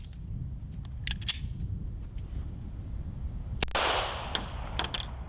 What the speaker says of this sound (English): Now next is going to be 147 grain Remington subsonic ammo. Let's see if it runs subsonic ammo.